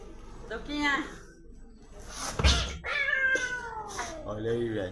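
A small kitten frantically meows in repeated rising cries, close and loud, with a second cat nearby while people talk over it; the cats are fighting over a chicken head.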